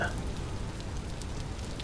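Rain falling in the survival video game Vintage Story, a steady soft patter and hiss that continues evenly throughout.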